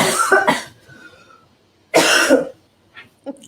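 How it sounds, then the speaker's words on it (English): Two harsh, close coughs into a microphone, each a sharp burst, separated by a short pause and followed by softer throat sounds. "I hope I didn't cough right into the microphone there."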